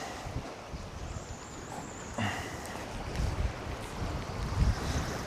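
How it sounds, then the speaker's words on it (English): Wind blowing outdoors at dusk, a steady, broad rushing roar that swells slightly toward the end, with a faint whistling tone heard briefly. "It's getting quite chilly in that wind now as well"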